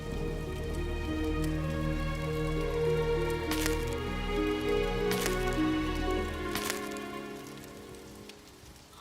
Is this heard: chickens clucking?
no